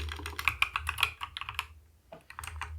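Quick bursts of keystrokes clatter on a computer keyboard as a title is typed, crisp close clicks in an uneven rhythm with a brief pause before a few more taps.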